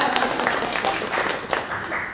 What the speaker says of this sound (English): we should, you know, give him a round of applause anyway